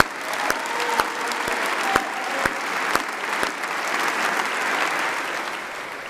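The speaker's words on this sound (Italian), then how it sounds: "Un grande applauso." At Palazzo Chigi, an audience honouring the Azzurri and Matteo Berrettini breaks into sustained applause, with sharp regular clicks recurring about every half second over the dense clapping.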